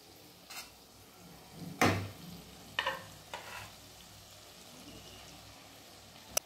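Cooked rice goes into a hot pan for egg paneer fried rice, with a few loud scraping stirs and clatters over a low, steady sizzle.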